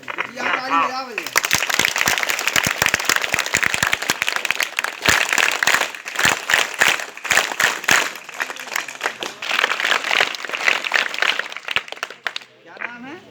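Sustained audience applause at a government higher secondary school event in Jhinjhan, Nougaon, Chhatarpur, Madhya Pradesh, a dense crackle of many hands lasting over ten seconds, with a voice speaking briefly at the start and again at the end.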